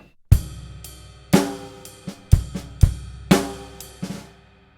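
A drum kit plays a one-bar groove from a grade 4 rock lesson, with a crash and bass drum hits, quiet ghost notes on the snare and a buzz stroke, each hit ringing out and decaying, close and alone.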